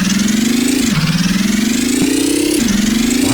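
A GearBlocks video game engine runs loud and close with a steady buzzing drone, stumbling and dipping in pitch about twice as it skips before recovering.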